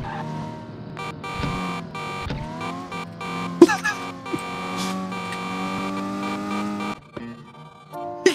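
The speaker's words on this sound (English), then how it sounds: "I should have realized, because it's a car game." A car in a flash racing game drives along with a synthetic engine tone, broken by short honk-like blasts and a sharp skid or crash burst near the middle, fairly loud and busy.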